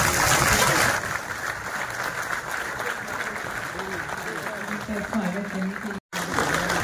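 A standing audience applauds to welcome a guest at a public speech. The clapping is dense and loudest in the first second, then settles into a steady patter while voices carry on beneath it.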